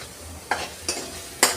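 Onion, tomato and spices fry in oil for palak paneer, broken by three quick spoon scrapes against the pan over a faint, low sizzle.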